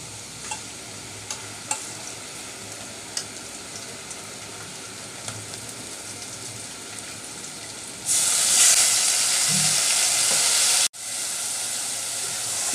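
Red chili powder, turmeric and salt paste hits a hot pan with koi fish, giving a sudden loud sizzling hiss that swells and holds for a few seconds, cuts off briefly, then resumes over a low steady kitchen bed.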